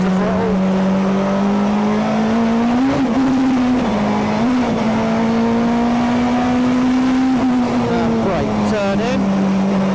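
A 1996 Honda Accord super touring car drives on track, its engine holding a loud, steady buzzing note that climbs slightly under throttle, with a voice talking over it throughout.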